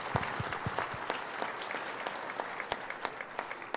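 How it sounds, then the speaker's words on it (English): Applause at the 28th Annual Thea Awards: a crowd clapping steadily, the claps thinning to sparse individual hits toward the end, moderately distant and with no voices over it. "Let's applause."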